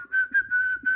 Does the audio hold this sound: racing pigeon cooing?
no